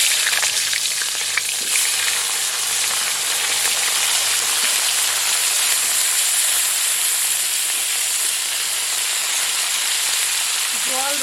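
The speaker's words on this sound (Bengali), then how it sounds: "আমি এখন ফুলকপিগুলো ভেজে নেব" Cauliflower pieces fry in hot oil with a loud, continuous sizzle and crackle close by, steady from start to finish, with faint clatter near the end.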